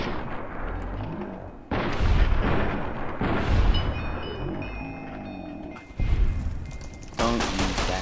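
A hunting rifle fires at close range in Fallout: New Vegas, heavy booming shots landing a few seconds apart amid rumbling game effects and background music.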